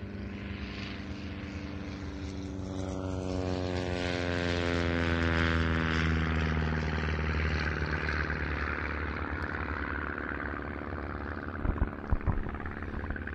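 A Fokker Dr.I triplane flies at an evening airshow at Duxford, its propeller engine droning steadily and swelling as it passes fairly close, then easing off, with a few faint knocks near the end and no talk.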